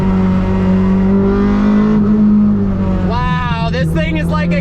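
Honda S2000 engine revving hard toward the VTEC crossover around 6,000 RPM, a loud rising mechanical whine with climbing harmonics in the final second, close and steady throughout.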